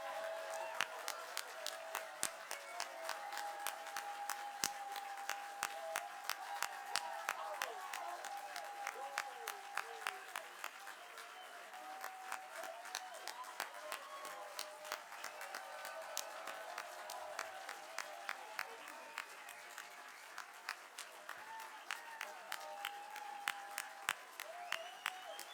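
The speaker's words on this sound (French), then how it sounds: "Je demande maintenant à nos nouveaux et nouvelles FCPA ainsi qu'aux lauréats du mérite du CIQ de bien vouloir se lever pour une dernière ronde d'applaudissements." Long, steady round of audience applause at a Fellows awards evening, individual claps crisp and distinct throughout, with faint murmuring voices beneath and no letup across the whole stretch.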